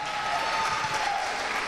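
A doo-wop show audience in the Bronx claps in a short, steady burst of applause, a dense crowd patter close by without a break.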